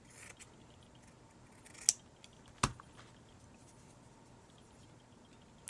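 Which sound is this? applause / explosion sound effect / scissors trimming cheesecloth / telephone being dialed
scissors trimming cheesecloth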